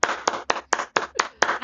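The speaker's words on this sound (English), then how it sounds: "So clap for me, please" Hands clap seven times in a steady, fairly quick rhythm, close and clear, during a tabletop Dungeons & Dragons session, with no talk over the claps.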